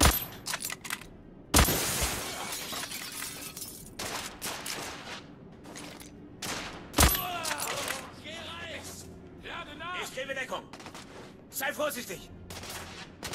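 Sniper and rifle gunfire in The Order: 1886, sharp loud cracks ringing out in a few separate bursts amid battle noise, with someone shouting in German between shots.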